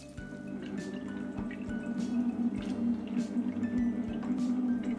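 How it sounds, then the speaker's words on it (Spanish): Chicken broth is poured into a simmering sofrito for a chicken empanada filling, giving quiet, close dripping and splashing liquid sounds with a soft bubbling bed underneath. "Vertemos medio litro de caldo de pollo y dejamos cocinar a fuego medio durante una hora."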